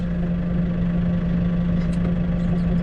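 A small lawn mower engine revs steadily with a low droning hum, holding an even, slightly raised pitch throughout.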